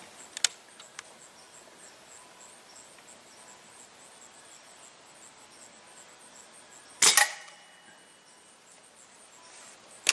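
Single sharp report of a Stoeger A30 air rifle firing an RWS Hobby 7 grain pellet, a brief loud crack standing alone amid quiet outdoor background with faint insect-like hiss.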